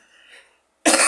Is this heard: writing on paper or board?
no